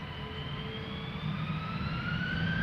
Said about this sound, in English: KLM flight 661, A330-200